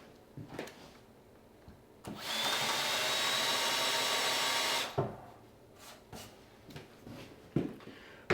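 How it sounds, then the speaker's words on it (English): A power drill countersinking screw holes in a cedar board runs in one steady, loud whine for about three seconds, with quieter clicks and handling knocks before and after. "And we'll countersink these."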